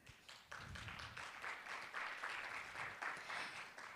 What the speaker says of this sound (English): A big round of applause to all of our participants, please.